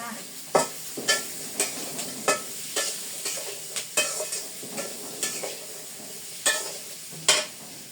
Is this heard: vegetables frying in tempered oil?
yes